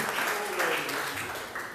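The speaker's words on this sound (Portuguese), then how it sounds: "Pode aplaudir o Senhor por essa palavra?" Brief applause from a church congregation at a missions service, a steady wash of clapping with a voice faintly audible under it for under two seconds.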